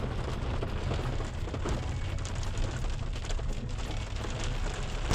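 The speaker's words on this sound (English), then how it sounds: "Raining in the Warrumbungles." Rain falls across the Warrumbungles bush in New South Wales, a continuous broadband wash of drops with a heavy low rumble, steady throughout and with no voices.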